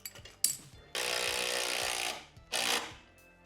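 A power tool tightens bolts on the bar of a 2024 Harley Davidson Road Glide in two loud whirring bursts, separated by clicks and small metallic taps.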